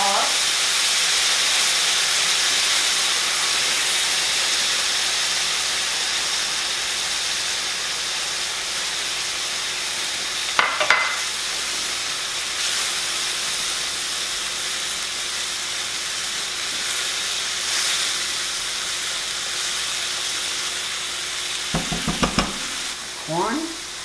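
Broth and seasoning stirred into meat in a skillet, a continuous close sizzle and steamy hiss with a few brief scraping clatters of the utensil against the pan.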